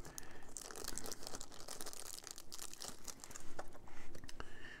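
Packaging for a replacement Majohn P136 fountain pen nib unit is opened up close, a stretch of light crinkling and crackling plastic with small tearing sounds in quick, irregular bursts, quiet and alone.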